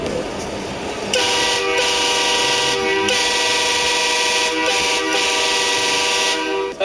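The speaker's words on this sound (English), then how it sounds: "Air horns in Texas." Truck air horn blasting in Texas, a loud sustained blaring tone that holds for several seconds with brief dips between pulses, rising sharply after a quieter opening.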